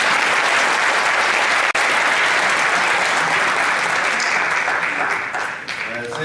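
An audience at an educators' training session in Gumi, Korea bursts into loud, sustained applause, a dense wash of clapping that holds steady and then tapers slightly toward the end.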